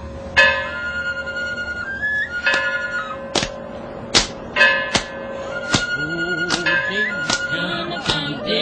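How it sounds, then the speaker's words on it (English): Several bright metallic rings strike one after another at irregular intervals, each tone ringing out and fading, with a faint voice briefly underneath. "Bells and horns, bell for this, horn for that."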